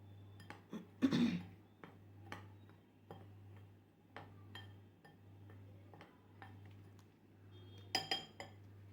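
Spoon clinking and scraping against a bowl while mixing dhokla batter, scattered light taps and a couple of louder clatters over a steady low hum, faint and close.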